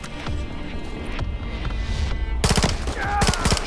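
Video game gunfire in Call of Duty Modern Warfare III: a near, loud burst of rapid automatic shots rattles out in quick bursts over a rumbling battlefield background.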